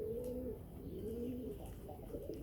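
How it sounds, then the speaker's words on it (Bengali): Red pigeons cooing at morning feeding time, several soft, rolling coos overlapping close by against a steady low background hum. "কবুতরের সকালের খাবার দিলাম।"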